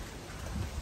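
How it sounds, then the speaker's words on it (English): Rain falls on Maui as a faint, steady hiss with a soft low rumble underneath, no voices heard. "and it's a rainy one"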